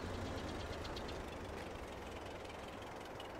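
A tractor engine runs in the Farming Simulator 22 game, a steady, faint mechanical drone with a low knocking chug that holds unchanged throughout.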